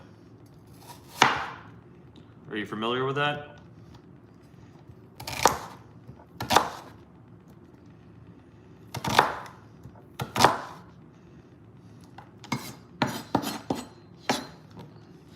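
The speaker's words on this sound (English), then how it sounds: "Just slicing up some onions for caramelizing later." Knife slicing onions for caramelizing as a burger topping, a few sharp separate cuts against a cutting board spaced seconds apart, then a quicker cluster of chops, with a brief spoken question among them.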